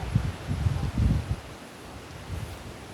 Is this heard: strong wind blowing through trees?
yes